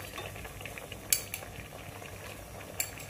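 Curry paste stirred into a pot of boiling pickled bamboo shoots, a soft steady bubbling simmer with a couple of sharp utensil clinks against the pot and no talking.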